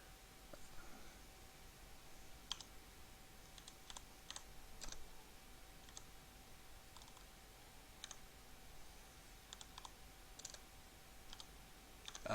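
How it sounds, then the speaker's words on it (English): Typing on a computer keyboard, with sparse, faint key clicks scattered irregularly across a quiet room with a steady low hiss and hum, no talking. "Typing sideways is not fun."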